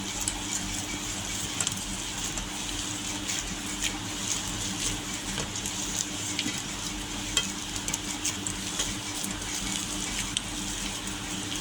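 Continuous steady stirring and squishing as poha cutlet mixture with coriander is mixed in a bowl, a dense, even texture of soft rubbing and light clicks running unbroken throughout.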